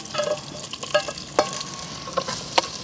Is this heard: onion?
yes